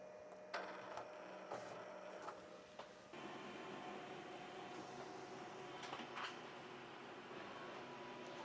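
An iColor 560 printer draws transfer paper through its feed with a steady mechanical whir, broken by several sharp clicks and clunks in the first three seconds before settling into a continuous, moderately loud running hum.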